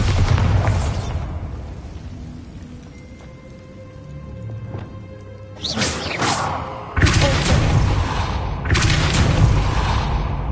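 Spell blasts from the video game Hogwarts Legacy: several booming bursts over ambient game music, each explosion loud and sudden, followed by rumbling decay.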